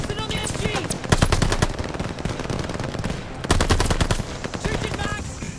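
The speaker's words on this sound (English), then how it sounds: "Suppress that MG!" Machine gun fire in the Call of Duty Vanguard video game, loud sustained automatic bursts with rapid repeated shots, two long volleys separated by a brief lull, dense battlefield noise throughout.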